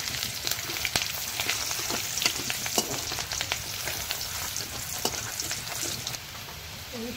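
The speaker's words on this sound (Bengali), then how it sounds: "লাল লাল আমার এই রসুন, এই পেঁয়াজটা দিয়ে দিলাম লাল করে নেবো।" Garlic and onion fry in a hot pan with a dense, continuous crackling sizzle, punctuated by sharp spattering pops and occasional stirring.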